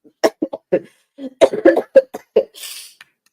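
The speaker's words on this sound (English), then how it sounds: "make my throat hurt so bad when I cough" Several sharp coughs in a quick irregular burst, close and fairly loud, ending with a short breathy hiss.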